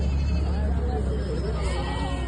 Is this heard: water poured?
no